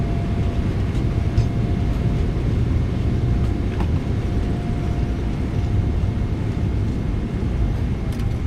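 Steady, loud broadband roar of a PMDG 777-200ER's thrust reversers during landing rollout at Chicago O'Hare in a flight simulator, continuous rumble with a faint tonal hum throughout, no talk.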